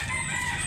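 A rooster at a gamecock market in Consolacion, Cebu, gives a brief crow, moderately loud and close, with a steady background hum and no talk.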